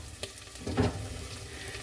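Turmeric and cumin seeds sizzle in a frying pan with a steady low crackle, a brief louder burst of spitting as the seeds hit the hot oil, no talking.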